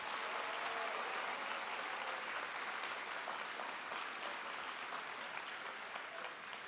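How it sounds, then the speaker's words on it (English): A school moving-up ceremony audience gives a long, steady round of applause, a dense, even wash of many hands clapping at a distance, with no talk over it. "give everybody involved a very big round of applause"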